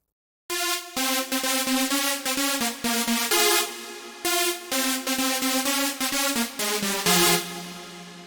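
A bouncy synth drop melody in an electronic track plays in short, punchy rhythmic stabs with sustained chords at the ends of phrases, loud and clean with no talking.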